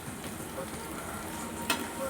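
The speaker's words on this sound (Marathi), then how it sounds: "आता हलवून घ्यायचं बटाटे." Potatoes frying in oil on a flat pan while being stirred, a steady soft sizzle that runs continuously with one brief scrape-like burst near the end.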